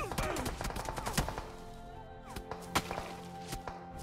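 Gunfire in the mobile battle royale game BGMI: a rapid cluster of sharp shots up front, then scattered single cracks and thuds over a busy in-game background, fairly close and moderately loud, with no talk.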